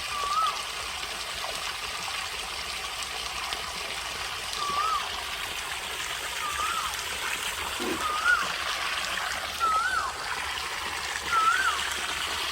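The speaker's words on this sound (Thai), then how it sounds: "เดี๋ยวผมต้องลงน้ำไปก่อนนะครับ" Water in an earth fish pond splashing and sloshing as a person wades in, a continuous soft swishing at moderate distance with faint voice-like sounds scattered over it.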